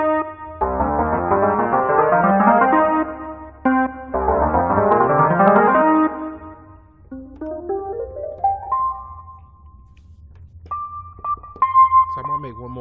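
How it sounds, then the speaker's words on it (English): Piano notes from a custom scale on the Nexus plugin climb and fall in quick stepped runs over a steady low bass drone, then thin out into a few sparse, ringing high notes near the end. "I put a little piano on it."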